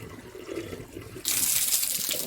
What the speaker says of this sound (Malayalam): ആ കാണുന്ന വെള്ളമൊക്കെ നിങ്ങളെ കിണറ്റിലെ വെള്ളത്തിൻ്റെ ആണ്